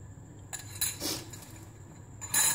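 An egg and milk batter is mixed in a bowl, with a few sharp metallic clinks of a utensil against the bowl spaced irregularly over a quiet background.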